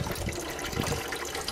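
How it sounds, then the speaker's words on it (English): Water rushes and gurgles steadily as it is flushed backwards through the heater core of a 1994 Chevy Caprice wagon with an LT1 350 V8, close and continuous with no talk. "I'm running it through backwards right now, and I'll run it till I see the water is pretty much coming out clear"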